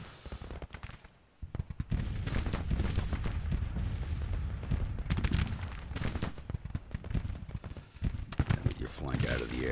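Artillery brigade firing in a Civil War strategy game, heard as dense, repeated booming volleys and crackling shots layered over a steady battle din, with talking over parts of it.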